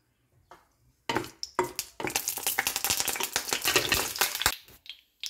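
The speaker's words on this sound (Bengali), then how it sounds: "তেল গরম হয়ে গেছে, এবার দেব শুকনো লঙ্কা।" Dried red chillies hit hot oil with a sudden loud crackle, then a busy stretch of rapid spitting pops and sputters that fade out after a few seconds.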